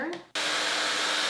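A Dyson hair dryer switches on abruptly after a brief fading tone and then runs at a steady, loud, close-up whoosh with a smooth high airy hiss.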